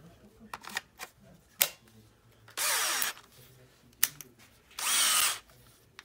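Makita DF333 cordless drill-driver from 2023, run in two short full-speed bursts of about a second each, close and loud, with quiet handling clicks between them.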